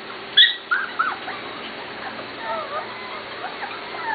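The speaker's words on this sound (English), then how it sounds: "Marianne, this is your puppy" A corgi puppy gives a few short, high whimpers and yips near the start, then softer whines continue faintly over quiet room tone.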